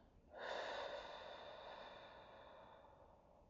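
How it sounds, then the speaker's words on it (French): A single long, steady breath drawn close to the ear, a soft airy rush that starts abruptly and slowly tapers off, with nothing else around it. "Je peux entendre quand j'inspire et quand j'expire."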